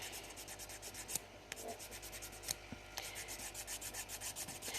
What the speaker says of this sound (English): So I'm just going to file that section there.